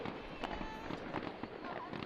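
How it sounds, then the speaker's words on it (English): New Year fireworks over London seen from an apartment balcony, a distant, faint crackle of repeated pops and bangs in irregular bursts against background noise. "we did get an amazing view of the New Year fireworks though"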